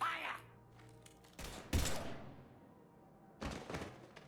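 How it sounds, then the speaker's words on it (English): Gunfire in the Mass Effect video game: a few quiet, scattered bursts of shots and thuds with gaps between them, set among low game ambience. "Now open fire."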